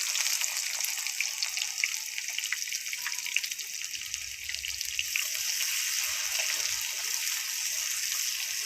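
Chopped onions frying in oil with cardamom, cloves and cinnamon, a steady hiss and crackle at moderate level that runs unbroken throughout.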